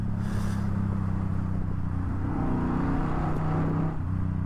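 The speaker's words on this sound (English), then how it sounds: "What sets the exhaust tone apart from the rest of the sub 1000 cc cruisers" A Suzuki Boulevard M50 cruiser motorcycle's exhaust rumbles deep and steady up close, a continuous throaty drone without any voices.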